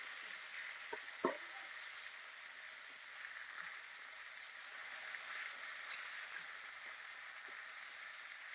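Fish rubbed with salt frying in mustard oil in a wok for a Bangladeshi fish bhuna, a steady broadband sizzle running throughout, with a few brief clinks of a utensil near the start.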